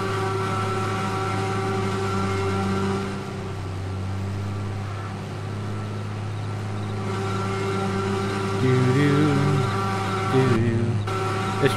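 Tractor engine in Farming Simulator 22 during corn cutting, a steady droning hum with a constant low pitch that shifts slightly near the end, continuous and without speech.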